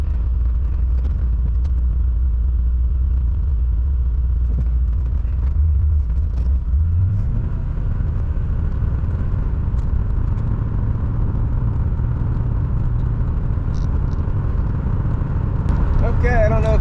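A C4 Corvette pulls onto the road, its deep low engine rumble steady and close throughout, with a rise in pitch around the middle as it gets going and interior road noise underneath.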